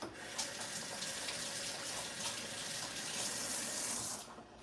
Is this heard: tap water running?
yes